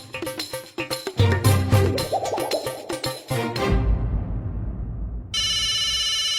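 A phone ringtone plays a bright melodic tune, loud and close, fading out before a steady electronic ring tone starts.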